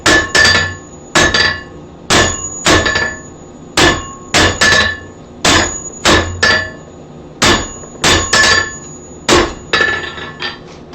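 Power hammer with flat dies drawing out a gradual taper on hot metal for a wreath hanger, a steady series of loud, ringing blows in quick clusters of two or three, close and alone with no talk.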